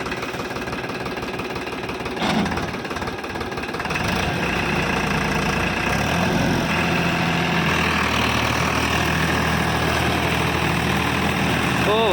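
A tractor engine runs steadily in first low gear in a field where sugarcane leaves are worked into the soil, giving a loud, continuous low rumble with a knocking throb that deepens partway through.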